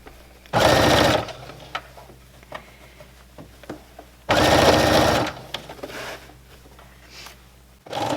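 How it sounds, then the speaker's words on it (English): A sewing machine stitching an apron over a basting stitch, running in two loud, steady bursts of about a second each, with quiet handling and faint clicks between. "make sure you at least are sewing right over your basting stitch or to the left of it."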